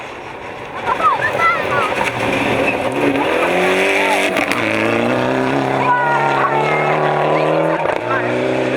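Rally car in the KCB Eldoret Rally 2015 climbing an escarpment, its engine revving hard with rising and falling pitch through gear changes, loud and near, while a commentator talks over it.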